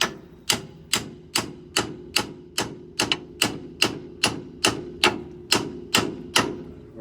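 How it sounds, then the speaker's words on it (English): A sledgehammer strikes a pickle fork wedged into a car's suspension, fourteen sharp metallic blows at a steady, even pace about every half second, each ringing briefly, loud and close. "now we'll take our sledge."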